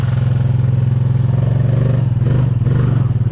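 A close, loud 420 ATV engine chugging with a steady pulsing rhythm as it drives through a water hole, the tone dipping and surging briefly as it pushes through.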